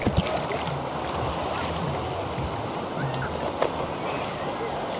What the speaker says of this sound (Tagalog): Medyo malaki lang talaga yung alon